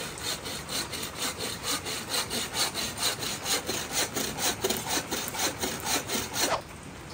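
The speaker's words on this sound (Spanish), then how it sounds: "He terminado de cortar." Steady back-and-forth hand sawing through old, rotten wood while building a small wooden table, with loud, close, rhythmic strokes that run evenly and stop just before the end.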